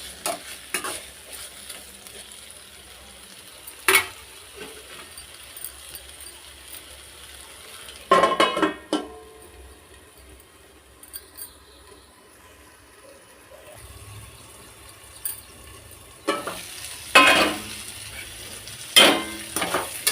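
Dosakaya and tomato fry in a pan with a soft, steady sizzle, broken by intermittent louder scrapes and clinks of stirring, with no talking.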